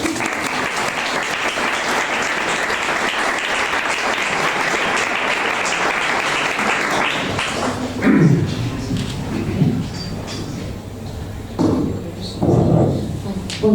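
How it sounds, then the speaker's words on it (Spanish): An audience claps loudly and steadily for about seven seconds before the applause dies away, followed by a few thumps and someone talking. "Un aplauso."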